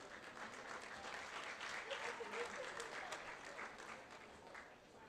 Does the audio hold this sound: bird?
no